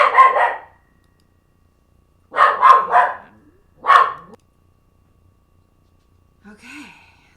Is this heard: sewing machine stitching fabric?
no